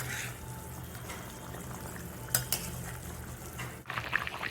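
Fish goes into a bubbling curry with pointed gourd, a soft simmer under a few brief splashes and clinks, then a louder burst of sizzling bubbling near the end.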